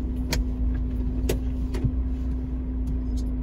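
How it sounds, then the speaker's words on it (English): A Porsche 968 driving around the block, a steady low engine drone with a constant hum inside the cabin, punctuated by a few faint clicks and rattles. "let's go for a quick ride around the block."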